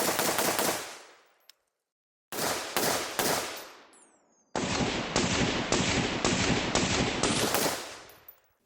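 An AR rifle fitted with a deflector brake fires in loud, close volleys: a quick burst of shots, a pause, a second short string, then a longer rapid string of cracks with echoing tails.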